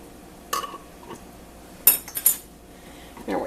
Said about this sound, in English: I need my fork because this is a Tatler lid that's going on here.